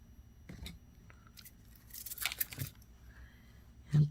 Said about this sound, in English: So we'll cut that off